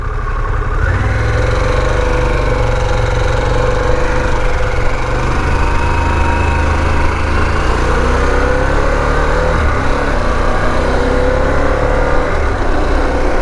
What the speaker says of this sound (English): It's like, why is it revving?